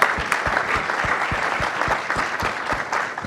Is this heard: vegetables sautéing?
no